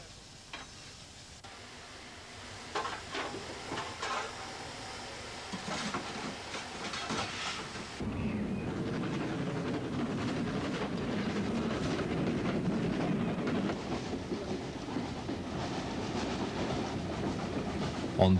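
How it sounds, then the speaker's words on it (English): Steam locomotive Bahamas, in pre-war maroon livery, coasts slowly into Holbeck Loco Shed in Leeds, with steady hiss and soft rail clatter rising into a fuller, continuous rumble as it nears. "Bahamas coasts into Holbeck Loco Shed in Leeds, where it will be checked out for a trial run."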